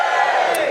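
A live comedy audience cheers together in one loud, brief, dense roar of many voices.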